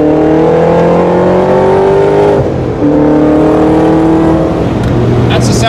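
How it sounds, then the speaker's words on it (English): A Ford GT40's 740-horsepower V8 is revved hard on a hot lap, loud and close with rising engine tones that break for a gear change and then climb again, with faint voices underneath. "big, booming V8 sound"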